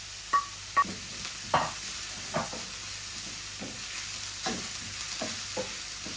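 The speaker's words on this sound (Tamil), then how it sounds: "நான் இந்த எடுத்து வச்சிருக்கிற இந்த லீக்ஸை இதுக்குள்ள போட போறேன்" Leeks and green chilies frying in a pan, a steady sizzle broken by several scraping stirs of a spatula, close and fairly loud, with no voices.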